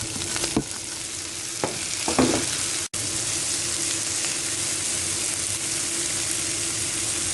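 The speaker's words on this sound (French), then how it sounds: "Dans une poêle avec un peu d'huile d'olive pour pas que ça brûle, je vais venir simplement faire suer mes oignons" Onions and spinach sweating in a little olive oil in a pan, a constant close hiss of frying with a few light stirring knocks early on and a brief dropout midway, no one speaking.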